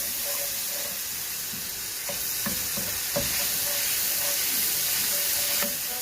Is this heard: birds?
no